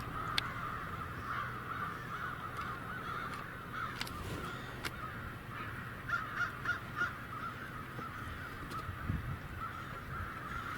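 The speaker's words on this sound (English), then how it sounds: "Quite a few crows to our left." Several crows cawing near a road, scattered harsh calls ringing out over steady background noise, some in quick clusters of three or four.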